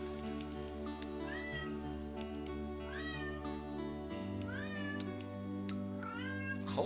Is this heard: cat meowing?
yes